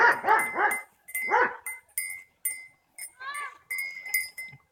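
A cowbell on a cow clanks in a rapid metallic rhythm close by. A few loud animal calls come early, then the ringing continues in short repeated bursts.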